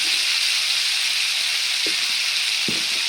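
Chili powder frying in hot oil for Onam-style mango pickle, a dense, even close-up sizzle throughout with a couple of faint spoon taps.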